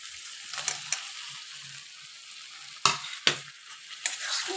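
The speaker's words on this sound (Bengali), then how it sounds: "এবার আলুটা দিয়ে আবার ভালো করে কষিয়ে নেব" Fried potatoes get stirred into hot spiced oil in a pan, a soft sizzle underneath with a few sharp scraping strokes of the spoon, close up and without speech.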